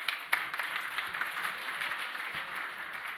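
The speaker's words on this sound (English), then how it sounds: "We all owe you a tremendous round of applause for your effort." Soft, distant applause from an audience at a talk, a scatter of claps opening into a thin, steady patter that stays faint throughout.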